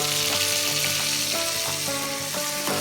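Fish sauce goes into tomatoes sautéing for salmon head sinigang, cooked outdoors in a backyard. A constant, close sizzle runs under steady tonal background music for a few seconds.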